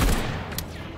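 A shotgun blasts in the video game Atomic Heart, one loud close burst that fills the short moment and then fades.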